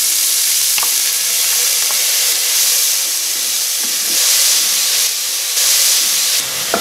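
Onion frying in chicken fat in a pot for Peruvian arroz con pollo gives a loud, steady hissing sizzle close up, with occasional soft knocks and scrapes of stirring and no talk.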